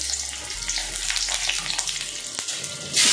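Cumin seeds, a bay leaf and green chili sizzle steadily in hot oil during Indian home cooking of a parwal recipe, a continuous close frying hiss that swells louder near the end, with no talking.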